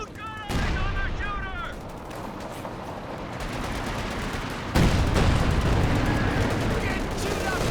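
A Priest self-propelled artillery piece in a real-time strategy game fires barrage rounds as booming blasts over a rumbling battlefield bed, with a sharp heavy hit near the middle and chattering game voices early on.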